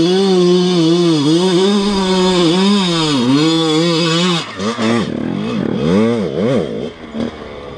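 A motorcycle engine revs hard on a night ride, rising and falling in repeated throttle blips, loud and close at first, then a rapid series of sharper revs as the bike works through its gears.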